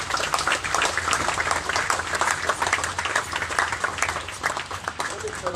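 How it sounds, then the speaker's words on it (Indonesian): Applause from an audience at a formal address by a church president in West Papua, a dense, steady clatter of many hands filling the hall without a break. "Tepuk tangan."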